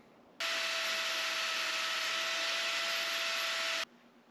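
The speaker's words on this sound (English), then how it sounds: "run the angle grinder pretty late at night" Angle grinder cutting metal on a Mazda Miata hillclimb build, a single steady high-pitched whine and grinding hiss lasting about three and a half seconds, starting and stopping abruptly, nearby and alone.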